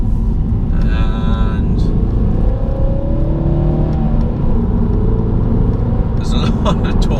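Mini Clubman diesel engine accelerating in sport mode after a downshift, a loud, close rumble that rises and swells steadily throughout, with someone talking over it.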